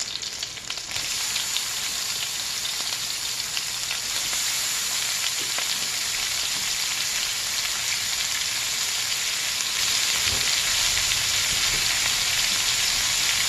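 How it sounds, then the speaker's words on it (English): Shrimp frying in a hot pan for seafood fried rice, a loud continuous close sizzle with crackling pops and occasional stirring scrapes throughout. "Now we're gonna put the shrimp."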